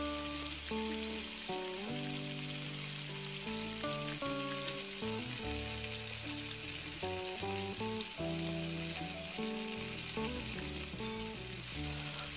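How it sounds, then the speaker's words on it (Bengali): A vegetable snack frying in a pan of hot oil, a steady close sizzle that holds throughout, with music playing over it and no talk. "তেল গরম হয়ে আসলে ঠিক এইভাবে স্ক্রিনে যেভাবে দেখাচ্ছি এইভাবে নিয়ে তেলে ছেড়ে দিতে হবে"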